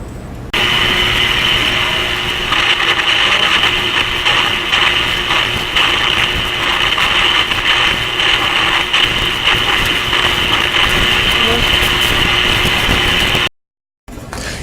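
Continuous buzzing crackle of radio interference, produced as one end of a wire is rubbed against a metal file with a radio at low volume, steady and dense for most of the span before cutting out near the end.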